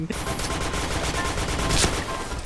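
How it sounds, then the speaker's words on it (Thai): A silenced M200 sniper rifle fires in Point Blank, one sharp muffled report standing out against a dense, steady clatter of background gunfire. "อุ้ยเก็บเสียงด้วยสไนตัวนี้"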